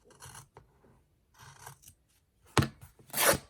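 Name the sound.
tearing material by hand for a stitchery journal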